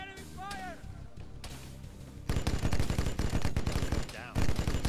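Enemy gunfire in the Arma 3 video game: a voice speaks first, then dense bursts of rapid automatic fire crackle loudly and continuously.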